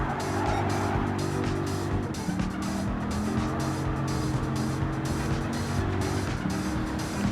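A Viper GTS race car in Gran Turismo 7 drones steadily at high revs, its engine note shifting through gears with faint tyre squeal, loud and continuous with no talking over it.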